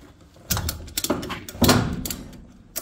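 A ratchet being cranked to loosen a nut during mechanical work on a Bombardier: close, loud clicking mechanical strokes in quick bursts, with short pauses between pulls.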